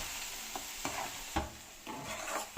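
Quiet scraping of a spoon stirring bitter gourd pickle with onion in a pan over low heat, a few soft irregular strokes and a faint sizzle underneath.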